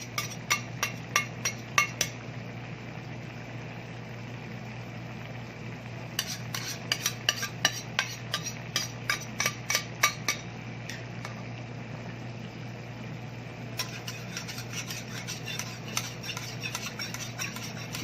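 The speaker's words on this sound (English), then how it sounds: "Okay, gonna stir that around." A utensil stirs pork in a pan with soy and oyster sauce, sending bursts of quick metallic clinks and scrapes over a soft, steady sizzle, quiet and close, pausing between rounds of stirring.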